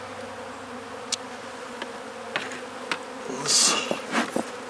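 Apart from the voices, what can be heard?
honey bees buzzing during beehive inspection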